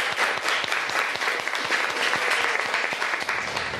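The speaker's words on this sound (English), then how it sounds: "we should all give the cooks a big round of applause" An audience claps for the cooks, steady and dense applause from a sizeable crowd holding at an even level throughout, with no voices over it.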